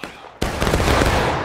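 A ragged musket volley from a line of infantry in the game Holdfast erupts after a brief quiet, a dense burst of overlapping shots rolling on loud and close for about a second.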